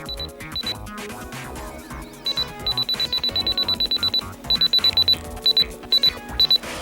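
A RadioShack 12-253 radio gives rapid button beeps, high and thin, in quick repeated bursts that are quiet under a busy background of sound from the radio.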